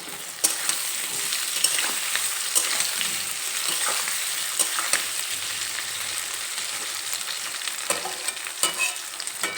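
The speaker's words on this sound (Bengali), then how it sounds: "আলুগুলো 2-3 মিনিটের মতো এখানে আমি ভেজে নেব।" Potatoes frying with onion and oil in a pan over a medium gas flame, a steady busy sizzle with occasional stirring clicks and scrapes, close and continuous throughout.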